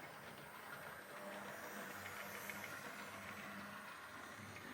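A small Hornby model train set running on its track, giving a faint, steady mechanical hiss and light rolling rumble throughout, with no talk.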